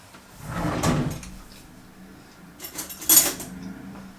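A kitchen drawer slides open with a clatter of cutlery as a fork is taken out, followed by a second rattle of metal utensils and the drawer closing, close and fairly clear.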